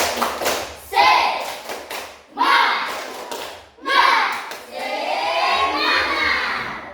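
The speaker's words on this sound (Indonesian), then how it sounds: "Mari kita tepuk semangat." A school class claps together in a rhythmic spirit cheer, bursts of group hand claps in a patterned beat, with children's voices chanting along and the bursts blending into a longer stretch of clapping near the end.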